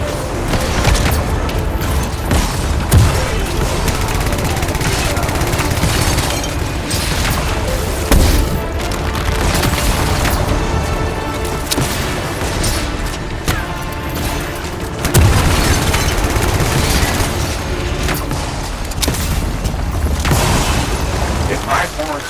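Crystals exploding in the video game Anthem, a dense run of booming bursts and crackling blasts over a continuous loud rumble, with in-game voices speaking over the chaos.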